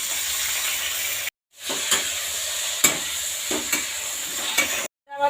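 Drained boiled cauliflower hits hot oil with tempering spices for a vegetarian dish and fries with a bright, continuous sizzle, broken by occasional stirring clinks and two abrupt silent cuts.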